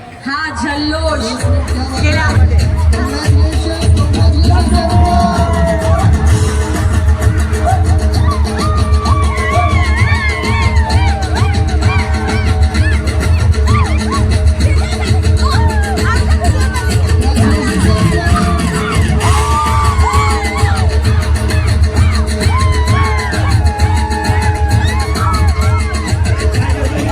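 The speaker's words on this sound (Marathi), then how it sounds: "हा जल्लोष" A large crowd cheers and whoops at a Lavani dance performance, a loud, unbroken roar of yells and babble that runs the whole time with music under it.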